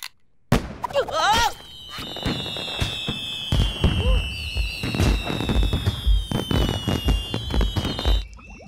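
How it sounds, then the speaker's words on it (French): Loud fireworks and rockets going off in rapid bursts, with whistling rising streaks and crackling pops, a crowd murmuring beneath. "Des feux d'artifice, des fusées"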